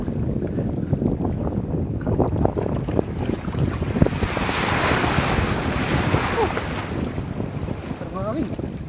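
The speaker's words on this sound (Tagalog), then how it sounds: "Medyo nalakas na yung hangin." Strong seashore wind buffets the microphone while ocean waves wash in, a loud steady roar of gusts and surf near a fishing spot on the shore, with no voices.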